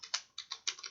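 A few quick keystrokes on a computer keyboard sound close and crisp, a short uneven patter of clicks with no voice.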